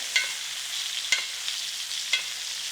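Butter spooned over a reverse-seared steak in a hot pan, a continuous soft sizzle with three brief sharper pops spaced about a second apart, close and unaccompanied by talk.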